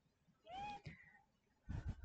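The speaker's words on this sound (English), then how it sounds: "you hear my cat meowing in the background" A pet cat meows in the background, two rising tonal meows in quick succession followed by a rougher, noisier cry, faint and somewhat distant in an otherwise quiet room with no talking.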